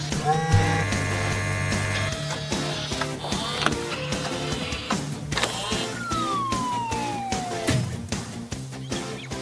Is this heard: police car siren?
yes